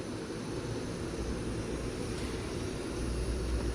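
A camping stove burner turned up high gives off a steady, faint hiss-roar of gas flame, unchanging and continuous throughout with no talk.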